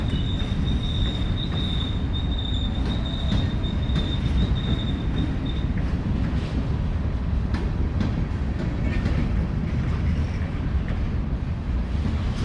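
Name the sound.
CSX freight train departing on the tracks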